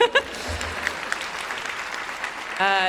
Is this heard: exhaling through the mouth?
no